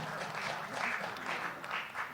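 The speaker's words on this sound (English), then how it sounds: "Yeah, well, round of applause." Steady, dense applause from an audience at a panel discussion, a continuous wash of many hands clapping at moderate level, without a break across the short stretch.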